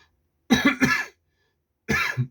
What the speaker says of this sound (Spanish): Usted disculpará mi tos.